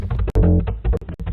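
A ukulele sample pitched down two octaves into a rubbery, low bass, playing short plucked notes in a bouncy rhythm with brief gaps and sharp percussive hits between phrases.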